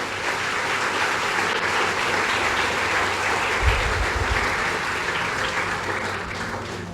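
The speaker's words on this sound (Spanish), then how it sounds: "Quiero que aplaudas a Cristo fuerte en este momento." A church congregation claps loudly for Christ during a sermon, a dense, sustained wash of applause filling the space with a brief low rumble midway.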